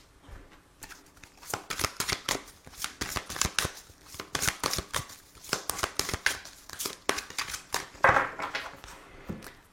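Tarot cards being shuffled by hand in a series of rapid riffling, flicking bursts that are close and fairly loud, running almost continuously with brief gaps and no talking.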